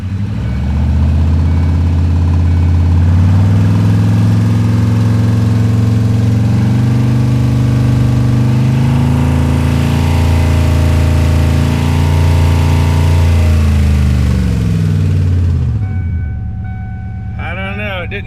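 A car engine with a freshly installed transmission filled with ATF idles steadily and loudly, its pitch shifting as it drops into drive, then cutting off near the end.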